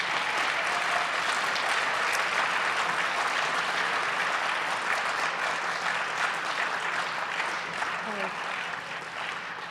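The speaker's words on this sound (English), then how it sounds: "So can we give a giant round of applause to this team?" Audience at the APTE Summit 2017 gives sustained applause, a dense and steady wash of many clapping hands that holds for nearly ten seconds and thins only slightly toward the end.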